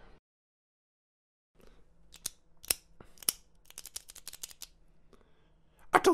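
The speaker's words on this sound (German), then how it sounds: "hörst du auf, mit dem Stift zu klappern?" A pen clatters against a classroom desk, a quick irregular series of sharp, dry clicks and taps after a moment of silence.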